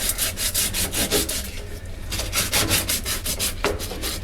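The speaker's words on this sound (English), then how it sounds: "So use your emery cloth. It works really well when we're doing this." Emery cloth rubbed back and forth over metal electrical conduit, a steady rasping scrape in quick repeated strokes, close and fairly loud with no talking.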